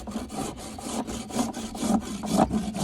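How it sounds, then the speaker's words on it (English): Farrier's rasp filing the hoof wall of a horse during a barefoot hoof trim: close, rhythmic scraping strokes, about ten in quick succession, growing slightly louder. "that rasp, although it's awesome, it takes off a lot of foot"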